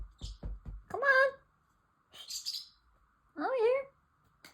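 A small pet parrotlet gives a few short, bright chirps in separate bursts, close and clear, with soft handling knocks at the start and quiet pauses between calls.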